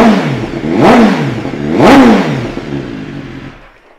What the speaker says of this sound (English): Let's get it fired up.